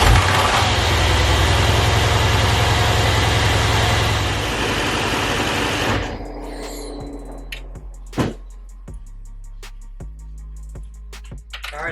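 A 2021 Mercedes-AMG C63 S V8 cranks and fires into a loud, roaring start. It then settles into a lower, rumbling idle with a few clicks and knocks nearby.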